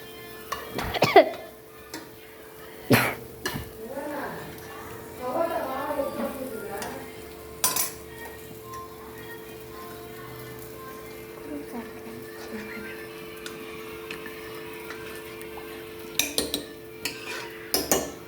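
Mushroom sambar gravy being stirred and churned in a pot, scattered scraping and clinking of a utensil against metal over a faint steady hum, with light sizzling between the strokes.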